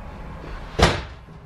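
A pocket door into the bathroom of a 2016 Bison Trailhand four-horse living-quarters trailer slides shut, a single short rushing thud, close and moderately loud over a steady low background hum.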